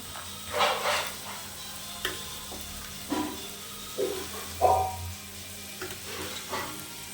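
Onion and carrot frying in sunflower oil in a pan for fried rice, a soft continuous sizzle broken by periodic stirring scrapes, fairly quiet and close.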